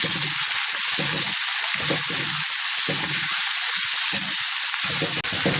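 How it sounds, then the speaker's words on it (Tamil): Turkey berries (sundakkai) sautéing in hot oil with curry leaves in a pan, a steady loud sizzle broken by bursts of crackling and stirring, close and continuous with no voices. "இப்போ இந்த சுண்டைக்காயும் எடுத்து போட்டுடலாம். இதை நல்லா வதக்கி விடலாம்."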